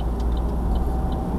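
Car turn signal indicator ticking inside a moving vehicle on a roundabout, a few faint, evenly spaced clicks barely rising above a loud, steady engine and road drone.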